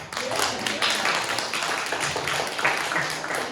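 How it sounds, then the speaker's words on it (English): A comedy club audience breaks into a steady, dense round of applause and clapping that fills the room evenly from start to finish, with faint voices mixed in. "Can I get a big round of applause for fucking up?"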